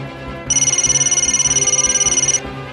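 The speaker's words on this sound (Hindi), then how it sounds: "फोन बज रहा है।" A phone ringtone trills loudly in rapid pulses for about two seconds, then cuts off abruptly; no one speaks over it.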